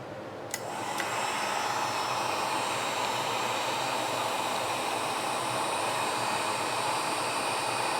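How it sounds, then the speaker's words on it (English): A heat gun clicks on and runs off a portable power station, a steady loud blowing whoosh with a high whine that holds unbroken after two short switch clicks at the start. "And now I'm going to go ahead and plug in the heat gun."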